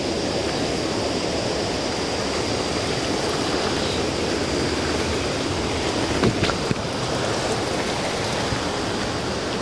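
Mountain stream in rural Vietnam flowing, a loud, steady broadband rush of water filling the whole stretch, unbroken and close, with no voices.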